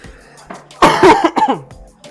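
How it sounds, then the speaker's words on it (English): A single loud, harsh cough bursts out close by, followed by a few rough, throaty rasps that trail off. "My god, ever since I had that cough."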